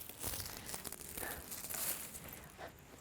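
Garden plants and lilies being cut back by hand, giving close, crinkly rustling and tearing of stems and dry foliage in irregular bursts throughout, with no talking.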